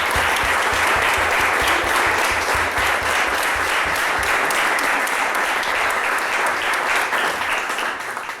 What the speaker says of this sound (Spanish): que les demos un fuerte aplauso a este equipo de 4 personas